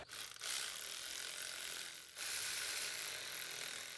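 A ratchet tightens the side bolts of a starter motor on a Toyota Venza, giving a close, steady rapid clicking in two long strokes with a short pause between them.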